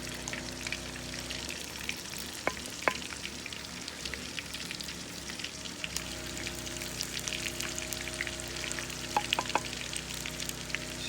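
Garlic frying in hot oil, a continuous close crackling sizzle with a few sharp spoon clinks against the pan over about eleven seconds.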